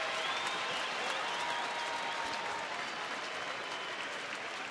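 A big crowd at a Texas Rangers baseball game cheers and applauds, a dense, steady roar that stays loud and unbroken throughout with no clear voices standing out.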